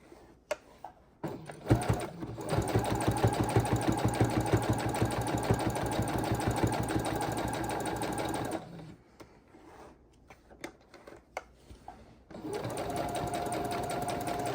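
A sewing machine stitches binding onto a quilt, running steadily and loudly for several seconds, pausing briefly, then starting again, with a few clicks and handling noises between runs.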